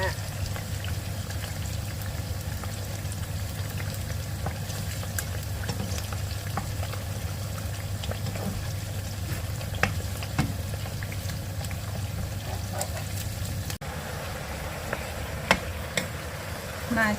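Chinese kale is stir-fried with crispy pork, giving a constant, moderately loud sizzle and crackle with scattered small clinks and stirring taps, close by, over a low hum that cuts out near the end.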